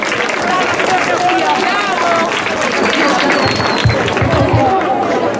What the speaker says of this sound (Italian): Adesso se potete fare un applauso sempre a Rebecca